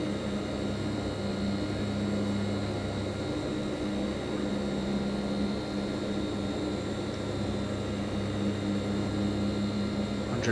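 Twin engines of a Hawker Siddeley HS 748 airliner in the P3Dv4 flight simulator drone steadily on approach, a constant low hum with sustained tonal whine, unchanging and moderately loud.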